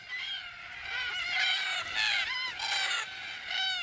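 A flock of cockatoos gathers at an evening watering hole, giving loud, harsh, overlapping screeches in repeated bursts from birds close at hand.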